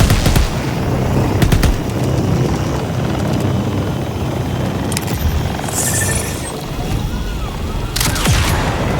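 Gunfire bursts in Borderlands 4 strike a vehicle's wheels, loud sharp cracks at the start, around two seconds and near eight seconds, over a constant roaring engine-like drone, with brief voices mixed in.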